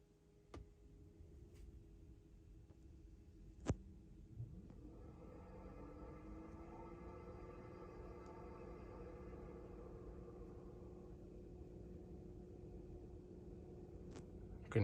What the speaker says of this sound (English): So we'll turn on the air conditioning.